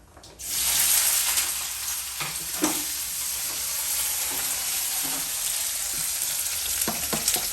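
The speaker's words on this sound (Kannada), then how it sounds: "ಆ ಈರುಳ್ಳಿನ ಇವಾಗ ಒಗ್ಗರಣೆಗೆ ಹಾಕ್ತಿದ್ದೀವಿ" Onions dropped into hot oil for tempering, ahead of brinjal in a home kitchen, burst into a loud close sizzle that settles into steady frying crackle, with occasional stirring clinks.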